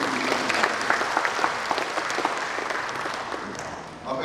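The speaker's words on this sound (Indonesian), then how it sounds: "Tepuk tangan dulu untuk Nusa Tenggara" Audience applause ringing through a hall at a ceremony for hosting the PON XXII 2028 games in Nusa Tenggara, steady dense clapping from a large crowd that thins slightly near the end.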